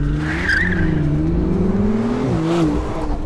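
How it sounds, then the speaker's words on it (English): A McLaren Artura Spider sports car engine roars and rises in pitch as it launches hard from standstill, with tires squealing briefly, loud and close. "when you want to swap the show for go, this car will launch from 0 to 100"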